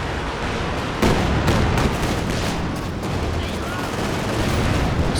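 Katyusha rocket barrage in Company of Heroes 2, heard as a dense, continuous roar of launches and blasts with sharp bursts layered over a steady rumbling bed of battle noise.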